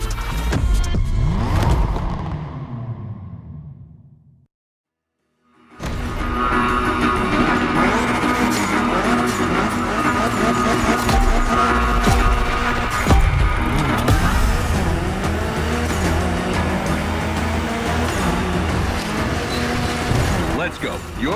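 A Mitsubishi Evo 9 tears through a Gymkhana course in The Crew Motorfest, its engine revving hard with screeching tyre skids, loud and continuous after a brief silent gap early on, with talk over the driving.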